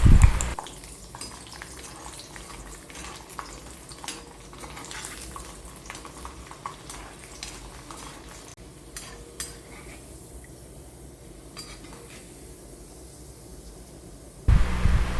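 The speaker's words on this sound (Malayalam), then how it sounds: "ഞാനൊരു മൂന്നാല് കഷ്ണം വെളുത്തുള്ളി എടുത്തിട്ടുണ്ടായിരുന്നു അത് നമുക്ക് എണ്ണയിലേക്ക് തന്നെ ഇട്ടിട്ടൊന്ന് വറുത്ത് കോരിയെടുക്കാം" Garlic cloves frying in oil for a mango pickle, a soft steady sizzle with occasional stirring clinks of a utensil against the pan, close and fairly quiet.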